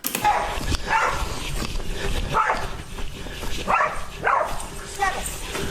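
A dog barks and yelps in agitated bursts while fighting a raccoon, several sharp cries spread across the moment, with a person's voice and commotion in the background.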